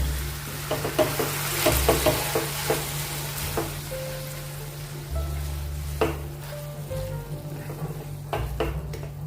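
Half a spoon of vinegar being stirred into a wheat flour and semolina snack mixture in a hot pan: a steady sizzle with a run of spoon taps and scrapes, close and fairly loud, with no talking.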